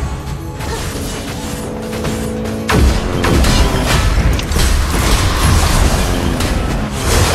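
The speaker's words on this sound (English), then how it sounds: "Your team has destroyed a turret." Turret being destroyed in the mobile game Honor of Kings, a loud crashing boom with rumbling debris that swells and carries on amid busy battle noise.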